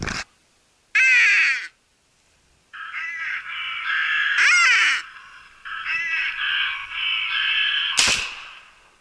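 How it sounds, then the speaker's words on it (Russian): Hooded crows caw in loud, harsh bursts during a crow hunt, several calls overlapping near and far, with a sharp bang near the end that may be a gunshot. "Это ворона! Прямо на нас!"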